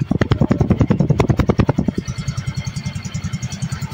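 A Yamaha Fascino S Hybrid 125cc scooter engine runs close by. Sharp rhythmic revving pulses give way to a steady, even idle putter.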